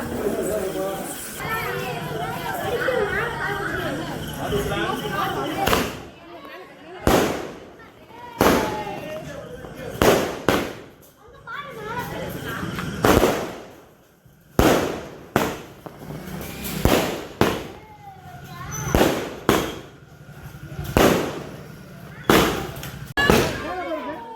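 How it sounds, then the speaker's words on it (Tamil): Loud Diwali firecrackers burst in a rapid, irregular series of sharp bangs, with children's voices and chatter running underneath and between the blasts. "எல்லாம் வெடி ஃபுல்லாக வெடிக்க போகலாம் வரும்பா"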